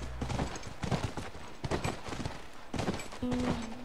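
Horse hooves in The Last of Us video game, a steady clip-clop of hoofbeats at a walking rhythm, fairly close and mid-level with a brief low tone near the end.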